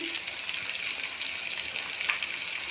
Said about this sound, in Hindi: दो से 3 मिनट हम इसको भूनेंगे।